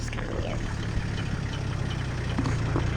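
A tractor engine runs steadily during backyard excavation for a fiberglass pool, a low rumbling drone with faint clanks and shifting load.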